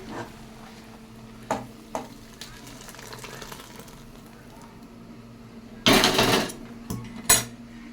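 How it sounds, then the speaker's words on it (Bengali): Cooked dal being stirred in a pot, scattered scraping and clinking of a ladle against metal, with a louder burst of clattering and scraping near the end, no voices. "ডালটাও আমার এখন হয়ে গেছে, আমি নাড়িয়ে দিচ্ছি।"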